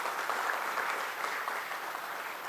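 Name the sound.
applause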